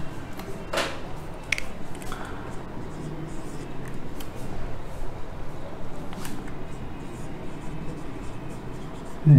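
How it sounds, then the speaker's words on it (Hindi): Pen writing notes by hand on paper, a faint continuous scratchy rustle with a couple of small taps, close and quiet with no talking. "आगे लिखते हैं हम"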